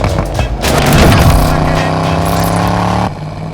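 A 1969 Chevrolet Corvette with a numbers-matching L46 350 V8 and four-speed roars on a test drive, loud and close, revving up and holding a steady rumble before the throttle eases off.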